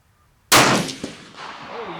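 A single sharp Remington 700 rifle shot cracks at an outdoor range after a near-silent lead-in, then a long fading boom and echo trail with a faint follow-up knock.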